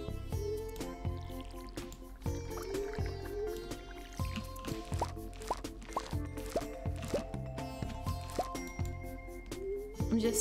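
Watering crops with a watering can in Stardew Valley, a series of soft drips and plops repeating at a steady pace over the game's background music.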